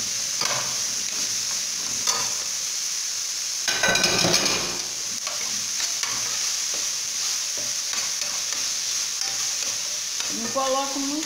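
Leek and other ingredients for caldo de mocotó fry in a pot with a little oil, making a continuous hiss and sizzle with occasional stirring scrapes and one louder burst of bubbling partway through.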